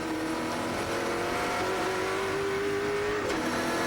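An onboard NZV8 V8 race car engine at Ruapuna roars steadily and loudly at high revs, its tone climbing and holding before a sudden drop near the end as the driver lifts or shifts.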